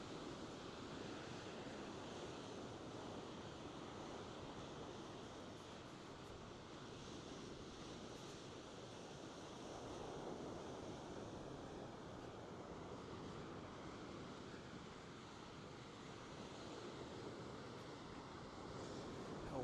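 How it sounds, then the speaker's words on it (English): Waves roll in and break steadily on the Norfolk coast, with a continuous surf wash, some wind rumble over the microphone and no talk throughout. "The waves look lovely."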